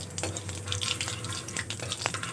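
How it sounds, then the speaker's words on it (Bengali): Two bay leaves and whole cumin seeds fry in hot tempering oil, giving a close, continuous sizzle with small crackles and pops throughout the brief moment. "এখানে ফোড়নে প্রথমে দেবো 2টো তেজপাতা"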